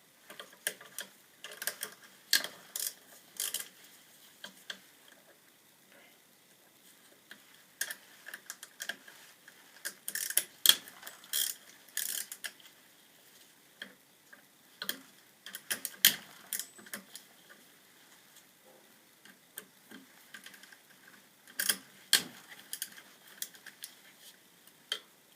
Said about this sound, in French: On va donc se servir d'une rallonge et d'une clé pour démonter ces 6 vis.